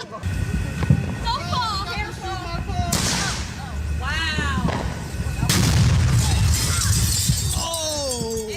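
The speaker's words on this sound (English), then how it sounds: "You hear the glass shatter?" Glass shatters with a sharp crash amid loud bangs and voices, several bursts of breaking and popping across the clip.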